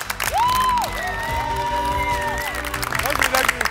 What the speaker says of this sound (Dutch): Groot applaus voor Snelle